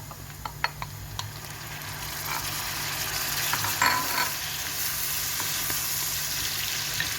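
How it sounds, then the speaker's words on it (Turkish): Tomatoes sizzle in a pan of sautéed onions for a Turkish egg dish with minced meat, frying hiss steady throughout with a few sharp clicks of a utensil stirring early on. "Evet soğanımız da kavruldu. Şöyle domatesimi ekliyorum."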